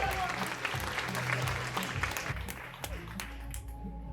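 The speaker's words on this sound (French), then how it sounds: "On peut les applaudir." Audience clapping at a fashion show runway event, sustained applause filling the room at moderate loudness while a voice talks faintly underneath.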